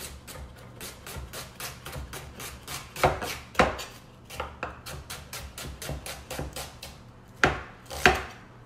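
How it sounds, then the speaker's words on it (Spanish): A knife chops scallions steadily on a cutting board, quick rhythmic taps close up with a few harder knocks mixed in. "Aquí vamos a picar los cebollines."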